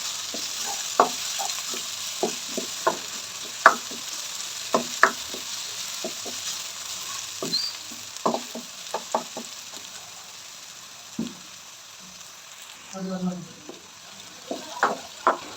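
Crushed ginger and garlic go into softened onions in a hot pan, giving a soft, steady sizzle with scattered clicks and scrapes of stirring close up. No one speaks.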